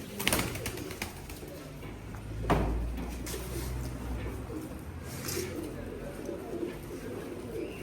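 Pigeons, racing show birds, coo softly and repeatedly at a moderate distance, with occasional rustles and thumps in a quiet space.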